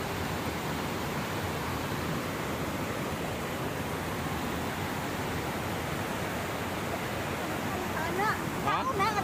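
A waterfall at Lake Sebu in South Cotabato roars as a dense, steady wash of rushing water, constant and fairly close, with faint voices briefly rising near the end.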